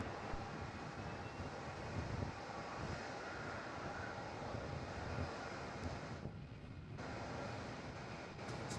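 A Boeing 787 Dreamliner at Melbourne Airport gives a distant, broad jet-engine roar that holds steadily throughout, with a brief dip in the upper hiss partway through.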